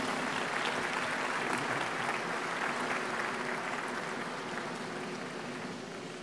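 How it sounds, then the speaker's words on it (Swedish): A large television audience at the Melodifestivalen 1992 song contest applauds warmly, a dense, steady wash of clapping that slowly eases toward the end, with no talk over it. "En varm applåd för Mats."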